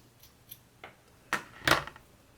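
Scissors cut yarn on a fluffy crocheted winter bag, giving a few faint close snips. The last two clicks are the sharpest.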